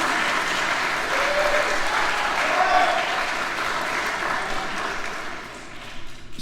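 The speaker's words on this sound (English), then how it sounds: "you can clap for Christine" Warm audience applause at a school honor orchestra concert, a steady dense wash of clapping from a crowd that holds level and then thins toward the end, with voices murmuring underneath.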